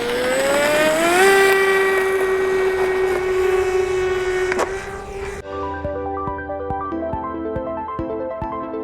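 An RC Fattie F-14 Tomcat drone on its maiden flight gives a loud, close electric whine that rises in pitch and then holds steady, before the sound cuts abruptly to quieter stepped tonal beeps.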